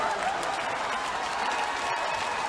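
The Orioles crowd in Baltimore rises in a standing ovation for Josh Hamilton's home run, a steady, dense roar of applause and cheering that fills the stadium without a break.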